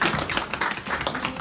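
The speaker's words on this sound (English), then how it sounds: "Let's give him a round of applause." An audience claps for a guest speaker at a church gathering, a dense run of hand claps held at an even level for the whole short stretch.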